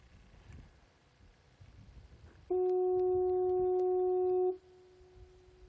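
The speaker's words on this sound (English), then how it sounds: "Foghorn can cause permanent ear damage." A lighthouse foghorn lets out one loud, steady blast of about two seconds, cutting sharply in and out over a low wind rush outdoors.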